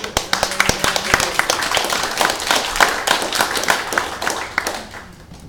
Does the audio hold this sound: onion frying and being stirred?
no